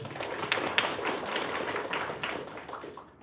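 Applause at a Korean student academic society's research presentation, a short, dense burst of many hands clapping in a room, steady and moderately loud for about three seconds before trailing off.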